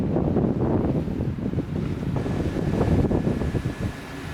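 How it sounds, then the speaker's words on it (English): Strong wind buffets the microphone over a steady roar of high waves crashing against a lighthouse, a dense, continuous rush with no voices. "really high waves, crashing over this lighthouse back there"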